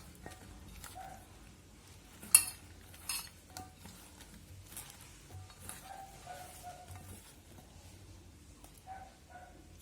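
A spoon mixes raw mustard oil into mashed food in a bowl, with scattered light scrapes and clinks at an uneven pace, one sharper clack early on, heard close and fairly quiet.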